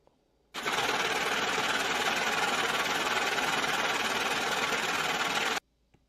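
A loud, continuous mechanical whirring buzz from the "money printer go brrr" meme sound effect starts abruptly, holds steady for about five seconds, then cuts off into silence.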